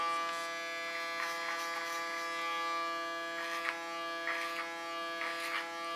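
Electric hair clippers buzz steadily and close while cutting hair behind the ear, a constant harmonic-rich hum with faint scraping textures rising and falling as the blade moves through the hair.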